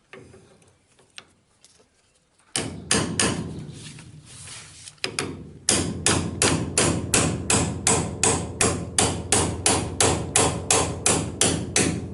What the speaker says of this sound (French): si on donne des coups de marteau comme ça, je suis sûr qu'on va écraser le filetage